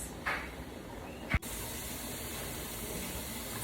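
A pressure canner full of chicken-feet broth vents a steady stream of steam: a continuous soft hiss, with a brief knock partway through.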